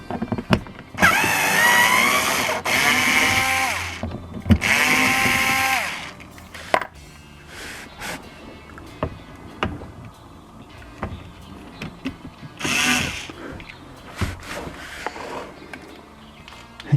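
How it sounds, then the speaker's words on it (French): Cordless power tool whirring in short bursts as 10 mm screws come out of the engine skid plate on a Lexus CT200h, with several loud runs, brief clicks and quiet gaps between them. "je dévisse le protège-carter qui tient par des vis de 10"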